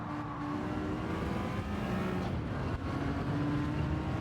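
Steady drone of a TVR sports car engine in a racing video game, a low continuous hum holding fairly even with faint tonal lines, quiet and alone with no voices.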